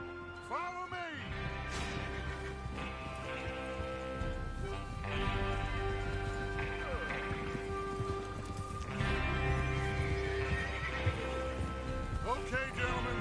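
Horses in a Western train-robbery video game gallop with rapid clip-clop hoofbeats and whinny loudly several times over continuous riding noise, with spoken dialogue mixed in.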